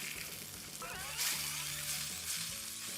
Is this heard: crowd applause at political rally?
no